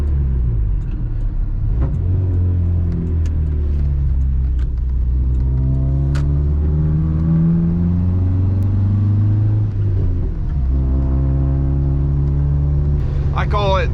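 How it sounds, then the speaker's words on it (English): A car engine rumbles and revs sharply as the driver blips the throttle for a rev-matched shift in third gear, the pitch rising and falling with each gear change while someone talks over it from inside the cabin. "I just shift it into the gear, smack the throttle to rev it, and then release the clutch."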